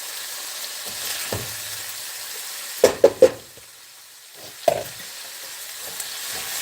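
Onions and peppers frying in a pan, a steady soft sizzle with a few sharp clattering knocks, likely stirring utensil strikes, scattered through.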